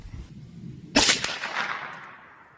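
A 22 Charger pistol with a 10-inch barrel fires one CCI Uppercut .22 round: a single sharp, close crack whose echo trails off over a quiet outdoor background.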